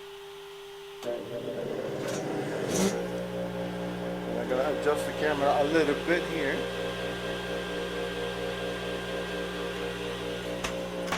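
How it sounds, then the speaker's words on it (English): A vacuum on a CNC machine switches on and runs, a loud steady mechanical roar with a constant hum settling in after the start, while someone talks over it. "Now I'm gonna turn on the vacuum so it's gonna get loud."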